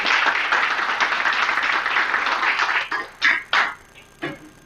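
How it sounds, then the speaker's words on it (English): Room-filling applause at a school board meeting, a steady dense wash of many hands for about three seconds before thinning into a few scattered final claps. "I want to give him a round of applause as well"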